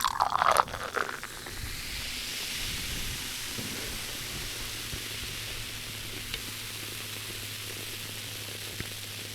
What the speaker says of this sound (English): See, I don't feel bad about pouring a full pour.